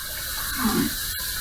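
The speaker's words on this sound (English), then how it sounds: "We're going to heat this up under some hot water." Hot water runs from a tap in a steady, soft hiss, briefly swelling louder midway while a bottle of shave soap or aftershave is warmed beneath it.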